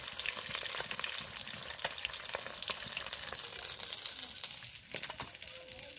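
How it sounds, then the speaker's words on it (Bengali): Fish fry in a pan of oil during home cooking, a continuous close sizzle crackling with sharp pops and stirring clatter, while a voice talks now and then. "মাছগুলো উল্টে পাল্টে লাল করে একদম ভালো করে শক্ত করে ভেজে নিয়েছি"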